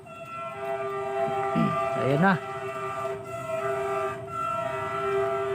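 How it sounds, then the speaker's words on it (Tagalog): A train horn sounds from an approaching train near Banace, Pamplona in Bicol, sustained steady tones with a couple of short swooping blasts, carrying over outdoor ambience while a person speaks briefly. "malalaman mo kung parating na rin yung tren kasi bumubusina naman sila"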